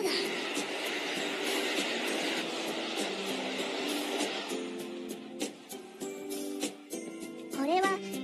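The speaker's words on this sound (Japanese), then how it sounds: "北海道を走るリゾート特急ニセコエクスプレスです。" The Niseko Express, a resort limited express train in Hokkaido, rumbles past in the first half, then fades under cartoon voices and short tonal effects.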